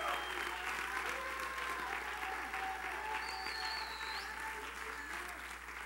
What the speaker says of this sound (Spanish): Alguien tiene un fuerte aplauso a Cristo